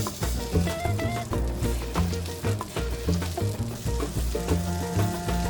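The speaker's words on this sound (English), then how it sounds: "We're going to sear it on both sides until it's nicely caramelized" A tomahawk steak sears in a very hot pan, giving a steady, close sizzle and crackle that runs continuously beneath background music.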